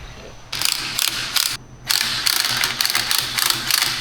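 Ratcheting clicks from a spring compressor being tightened on a front strut spring of a 2021 Mercedes-Benz CLS450, coming in close, repeated bursts of metallic pawl clicks with brief pauses between them.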